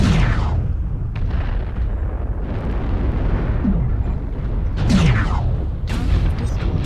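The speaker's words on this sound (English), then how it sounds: "Artillery strike online." Artillery strike explosions in the mech combat video game MechWarrior Online: a continuous rumbling barrage with deep booms and a few sharp bursts, with a loud blast near the end.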